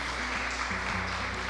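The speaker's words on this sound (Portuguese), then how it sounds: "Você pode aplaudir ao Senhor em nome de Jesus" A church congregation applauds during a celebration service, a continuous even clapping wash over low sustained organ-like tones.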